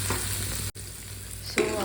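Okra (bhindi) frying in a pan, a close steady sizzle with a short gap of silence and a louder stir or clatter near the end.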